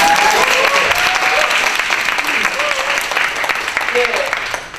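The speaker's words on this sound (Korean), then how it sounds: "이런 말하면 박수가 나와야 되는 것 같아요." Audience applause fills a lecture hall at a talk by a speaker, a dense, steady clapping that holds for several seconds and fades slightly toward the end, with a few voices faintly over it.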